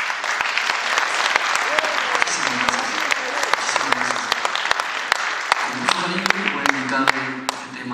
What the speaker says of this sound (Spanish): yo quiero un aplauso para ustedes